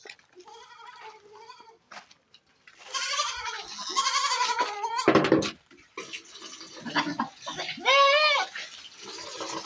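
Goats on a Nigerian farm bleat repeatedly at close range, wavering calls arriving in bursts and overlapping. A brief splash of water and some shuffling noises sound between them.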